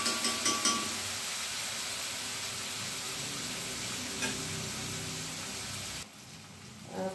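Onion frying in a cast iron kadai, a continuous sizzle with stirring scrapes and a few light knocks at the start, moderately loud and alone without speech.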